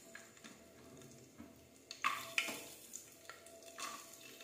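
Cashews and raisins fry over low flame in a pan of whole spices for chicken pulao, a faint sizzle broken by a few sharp clinks of a spoon stirring against the metal.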